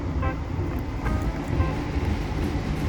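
Inside the Argo Bromo Anggrek New Generation executive train, a low, continuous rumble of the moving carriage fills the cabin, with faint rhythmic clatter over the rails.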